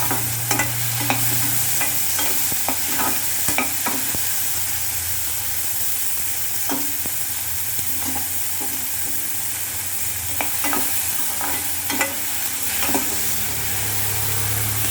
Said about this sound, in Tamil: கொஞ்சம் வதக்கணும், பச்சை வாசனை போகிற வரைக்கும் வதக்கணும்.